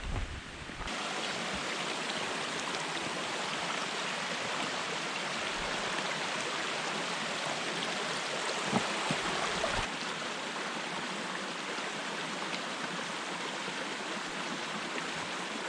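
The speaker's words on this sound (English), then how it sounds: "I can hear a waterfall up here." A steady, unbroken rush of falling water from a waterfall on Graveyard Ridge, North Carolina, fills the scene, a constant broadband roar with no voices and little change throughout.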